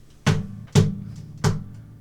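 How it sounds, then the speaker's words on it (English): Three thumping kick-drum-like hits made by a palm banging on an acoustic guitar body with strings muted, each a short, deep, close knock spaced about half a second apart. "I'm going to use this part of my wrist palm right here, and I'm going to kind of just bang."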